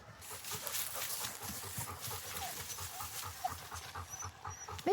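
A pack of dogs pants rapidly and steadily on a forest walk, close and continuous, with a few small whimpers and rustles mixed in.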